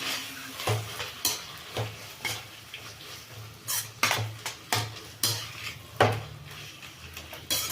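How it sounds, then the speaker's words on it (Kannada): Tomatoes frying in oil in a pan for an egg curry, stirred with a spoon: repeated sharp scrapes and clanks of metal on the pan over a low sizzle, irregular and close, no voices. "ಟೊಮೆಟೊ ಚಂದಕ್ಕೆ ಫ್ರೈ ಆಗಲಿ ಎಣ್ಣೆನಲ್ಲೇ"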